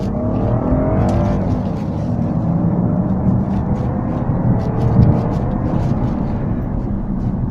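A 2017 BMW 540i M Sport G30 with an automatic gearbox in Sport Plus mode revs hard and loud from inside the cabin, the engine droning continuously and climbing in pitch with a brief shift around the middle.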